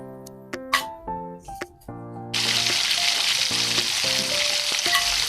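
Bay leaves dropped into hot oil for egg biryani set off a sudden, steady, close sizzle that continues evenly to the end, following a short stretch of plucked, tonal notes.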